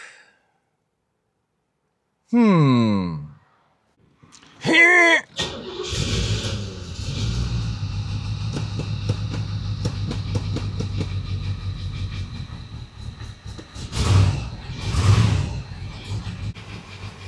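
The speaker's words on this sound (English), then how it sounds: "well, it started. It's running a little low RPM and kind of noisy right now." A Crossfire-injected Corvette engine cranks in two short bursts, then catches and idles at low RPM, running rough and noisy with a steady low rumble and a couple of louder revs near the end.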